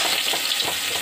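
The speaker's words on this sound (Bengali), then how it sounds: "এর মধ্যে আমি রসুন ফোড়ন দিচ্ছি।" Garlic dropped into a little hot oil for tempering, sizzling in a pan: a brief, bright, continuous frying hiss, close and even, with no talking.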